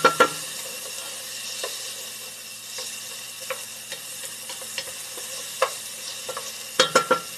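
Onions and garlic frying in a pot for beef tips and gravy, a steady soft sizzle with scattered sharp ticks and clinks of a utensil against the pot, a cluster of louder knocks near the end, no voices.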